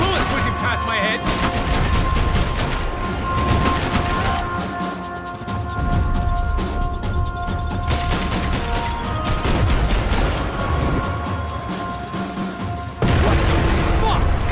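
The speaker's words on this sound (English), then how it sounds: "I can't concentrate with bullets pushing past my head!" Sustained gunfire and bullets in the video game Max Payne 3, dense shooting and crashes running continuously under game music and effects, loud throughout with a heavier burst near the end.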